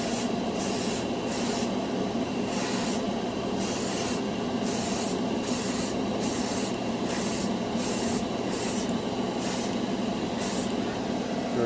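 A spray can of Humbrol steel paint hisses in repeated short bursts, close and steady, each burst a broad airy rush separated by brief gaps, over a constant background hum.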